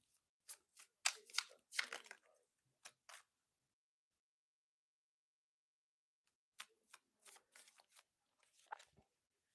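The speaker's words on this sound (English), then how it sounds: "I'm just shuffling these cards" Playing cards being shuffled close by, two separate bursts of quick riffling and snapping with a silent pause between them, no talking.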